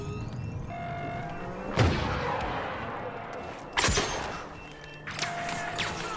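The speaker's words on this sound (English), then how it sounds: "Grenade out!" Explosions in Battlefront 2 boom sharply amid game sounds and tones, a strong blast followed by a second heavy detonation about two seconds later and a softer thump after that.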